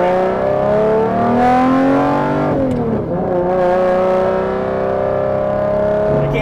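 A Lamborghini Diablo SV engine pulls hard toward 8000 rpm, loud rising harmonic wail that dips briefly at a gearchange then climbs again, heard from inside the car with no talk.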